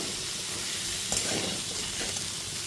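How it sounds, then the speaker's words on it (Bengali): A soybean dish frying in a pan, stirred as salt and sugar go in: a steady broadband sizzle with a few soft scraping strokes of the spoon partway through, close and fairly quiet. "লবণ আর চিনিটা দিয়ে খুব ভালো মতো মিশিয়ে নিচ্ছি।"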